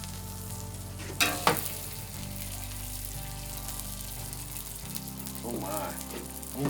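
Smash burgers sizzle steadily on a hot griddle after being flipped, a loud continuous frying hiss with a couple of sharp scrape or clank transients early on and a low hum underneath.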